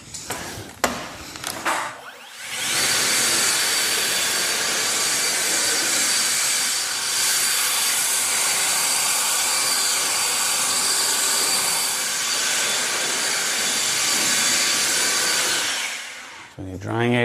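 A handheld air blower dries a freshly washed car in a garage. It roars as a loud, continuous close-up whoosh for most of the stretch, with brief handling noises before it starts and as it cuts off.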